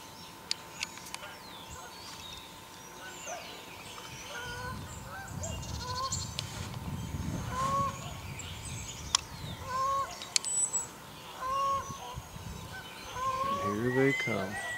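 Geese honking repeatedly among swans and other bird calls, some close and some farther off, with a low rumble of wind or movement underneath.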